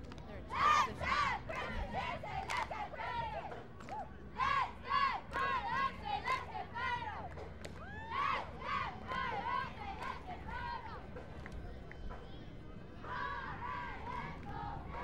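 A squad of young cheerleaders chants a cheer at the Junior Orange Bowl Parade, girls' voices shouting in rhythmic bursts with short gaps between phrases, then fading into a softer group chant toward the end.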